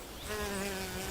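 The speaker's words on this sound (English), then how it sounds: "The hornet offspring in the nest are fed with captured insects." Hornets buzz at their nest in a brief, continuous drone that rises slightly in loudness and stays close and steady throughout.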